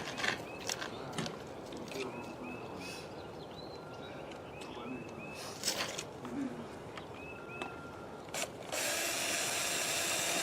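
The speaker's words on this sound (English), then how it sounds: "Then I'm going to put a screw in here to hold this nice and tight." A screw is driven in to secure a drain pipe fitting, giving short bursts of whirring and ratcheting from a power driver with pauses between, fairly quiet, ending in a steady broadband rush.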